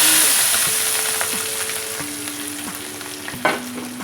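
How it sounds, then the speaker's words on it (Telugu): Oil sizzles and crackles steadily in a pan while being heated for tomato pachadi, a bright continuous frying hiss with occasional pops and light clinks, close up and with no speech. "మళ్ళీ కొంచెం మళ్ళీ ఆయిల్ వేస్తున్నాను వేడి చేస్తాను"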